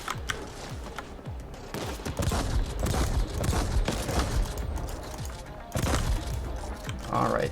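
Rapid bursts of gunfire in The Ascent, a cyberpunk shooter game, crack out in dense, overlapping volleys that run steadily for several seconds, loud and close, with brief dips between strings of shots.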